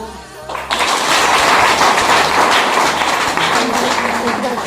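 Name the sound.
applause for the women being honoured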